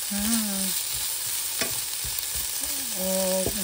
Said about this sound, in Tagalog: Ako ni siyang gigisal para mahumot na ano siya luya.